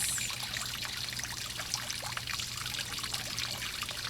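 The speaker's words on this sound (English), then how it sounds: "noticing all the sounds of nature around me. The water, the birds." Water in nature trickles and pours steadily outdoors, a continuous bright rushing with faint splashy flickers, soft and unchanging throughout.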